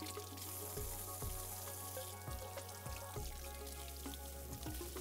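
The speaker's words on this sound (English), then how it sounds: "I start by running hot water." Hot water runs steadily from a kitchen tap onto a cast iron griddle being washed, a continuous rushing splash with periodic clinks and knocks of the metal pan, close by and without voices.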